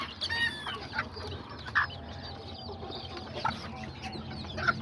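Azteca hens with their chicks cluck softly at a farm, with scattered short clucks and faint peeping calls over a quiet outdoor background, no speech.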